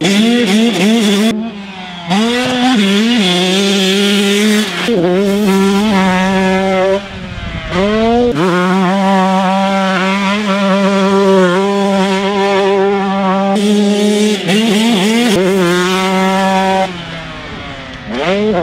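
2021 125cc two-stroke motocross bikes ridden hard, their shrill, buzzy engines revving up and down through gear changes, loud and close with brief drops as the throttle is chopped.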